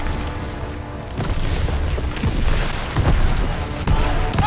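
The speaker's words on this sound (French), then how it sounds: "Barrage d'artillerie!" Artillery barrage explosions in the World War II shooter Call of Duty WW2, with deep booms rolling continuously under loud battlefield noise and distant shouted voices.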